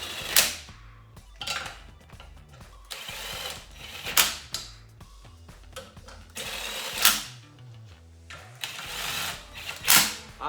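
Impact gun on its lowest setting, tightening differential case-half bolts in short close bursts of rapid mechanical rattle, spaced with quiet gaps and clinking between each bolt.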